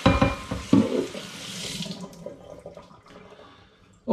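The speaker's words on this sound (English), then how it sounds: "I'm just rinsing my demijohn off." Running water rinses out a glass demijohn at close range: a loud gush and splash in the first two seconds, then thinner trickles and scattered drips tail off, with no talking.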